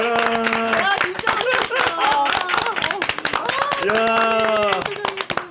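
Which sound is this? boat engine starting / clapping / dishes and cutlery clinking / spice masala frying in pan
clapping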